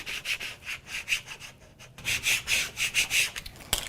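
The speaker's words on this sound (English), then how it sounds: "I'll smooth it down with the scraper tool." A scraper tool is rubbed back and forth over vinyl transfer tape, a close, rhythmic scratchy swishing of quick strokes, a brief pause, then another run of strokes ending in a small tap.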